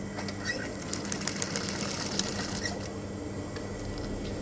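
A sewing machine stitching the hem of a tablecloth; a close, continuous mechanical whirr with a fast, even stitching rhythm and no talking.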